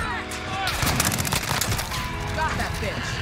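Rapid bursts of gunfire in Modern Warfare, fired with yellow tracer rounds, crackle loudly and continuously alongside game music and effects, with a player's voice talking over the shooting.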